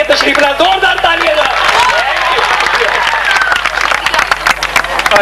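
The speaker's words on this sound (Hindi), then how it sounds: "यूसुफ साहब आपकी भरपूर ताली में भी एक दफा फिर गाने के लिए तशरीफ लाए जोरदार तालियां" A loud, dense round of audience applause welcomes a singer back to perform at a live music gathering, with clapping mixed with crowd murmur and a few cheers filling the room.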